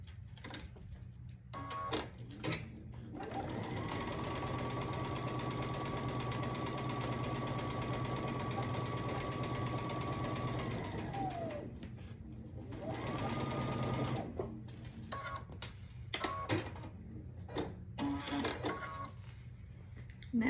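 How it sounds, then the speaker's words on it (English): Sewing machine stitching a quilt block seam at a quarter inch: a long, steady, close motor hum with a rapid needle rhythm, one brief pause, a second short run, then scattered handling clicks. "And then I'll stitch along this edge at 1/4 inch."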